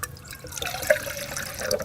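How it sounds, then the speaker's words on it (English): Water pours and trickles into a Jetboil stove's pot nearby, with small splashes and drips over a couple of seconds. "So we're going to take our water and we're going to pour it in"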